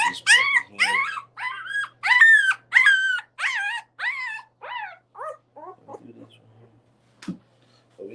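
A young Boerboel puppy cries in a run of high, repeated whimpers and yelps, loud and close at first, then fading into softer, sparser whines with a brief sharp squeak near the end; no talking.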